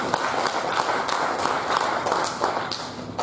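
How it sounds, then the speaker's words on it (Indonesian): An audience at a provincial working meeting claps for the organizing committee, a dense, steady patter of many hands that continues for a few seconds without a break. "Mari kita berikan aplaus kepada panitia dan"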